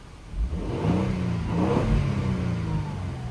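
A Lexus LX600 SUV's turbo V6 revs up twice in quick succession in Sport Plus mode, a throaty mid-pitched roar climbing and falling, close by and loud with no talking.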